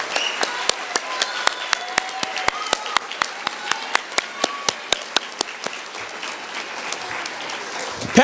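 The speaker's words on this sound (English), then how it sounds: "Hearty applause" Hearty applause at a university class night ceremony, with loud distinct individual claps standing out sharply over the crowd's steady clapping and a brief cheer or voice near the end.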